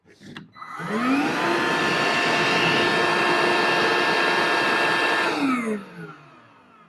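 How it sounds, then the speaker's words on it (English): A Ryobi ONE+ 18V cordless one-gallon wet/dry vacuum whirs up, runs at a steady loud high-pitched roar for several seconds while blowing leaves off a table, then spins down. "turn the vacuum on, and it should blow all these leaves off the table"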